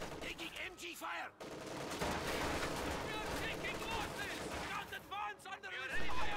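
Bursts of MG34 machine gun fire ring out in a World War II strategy game battle, with rapid rattling volleys and scattered shots over continuous battlefield noise and a voice talking over them.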